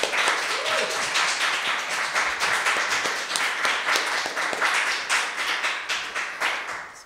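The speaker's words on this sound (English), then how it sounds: "Another round of applause for all our presenters." Audience applause at a poetry panel discussion, a dense patter of many hands clapping rapidly and steadily, close and loud, gradually thinning toward the end.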